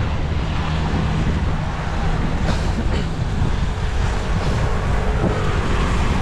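Strong typhoon wind roars continuously through the microphone outdoors during a storm, a loud, heavy rumbling buffet with gusting swells and no pauses.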